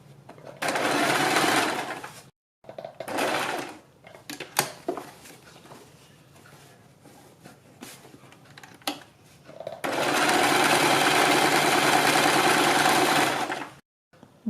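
Sewing machine stitching along buckram on a blouse neck, short bursts of motor whir early on, quieter handling sounds in the middle, then a long steady run of close stitching.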